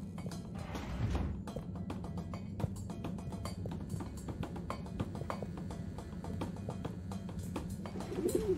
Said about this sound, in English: Hang on. That's Zoya's bird.